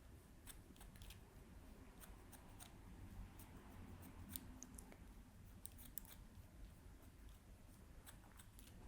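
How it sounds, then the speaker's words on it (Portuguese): Toothed thinning scissors snipping straight hair while blending a low fade in a barbershop, a quiet, close series of quick metallic clicks in an irregular rhythm, with no talking. "Depois do pente corrido, mesmo processo com tesoura dentada."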